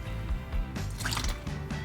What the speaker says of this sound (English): Now that the oil's draining, we're gonna let the little bit drip out